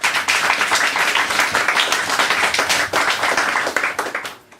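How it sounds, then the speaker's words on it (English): An audience at a cabaret-style evening claps for a singer after her set, a full, close round of applause that holds steady before fading out at the end. "so more applause please"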